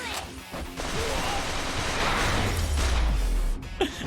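Gunfire in the video game Yakuza: Like A Dragon, a dense burst of shots and crashing impacts blurred into a loud roar, ending with a sharper single blast and a short whistle-like tone.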